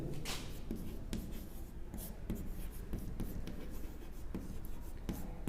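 A pen or pencil scratches steadily across paper up close while a math problem is worked out, quiet continuous strokes with small taps and pauses between them.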